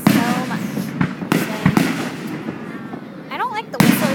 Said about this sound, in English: There's this one launcher you can launch that launches fireworks.